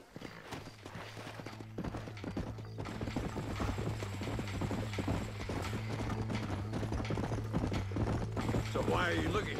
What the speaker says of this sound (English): just gonna get on our horse right here